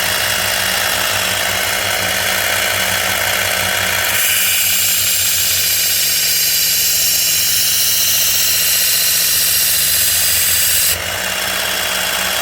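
Motorized belt grinder running steadily as an EDC folding knife edge is sharpened, a loud continuous whine and grinding rasp that shifts in tone partway through, no voices.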